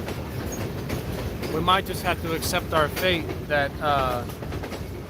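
A Norfolk Southern freight train rumbles past with rhythmic clickety-clack from the railcars over a steady roar, heard up close outdoors while someone talks over it.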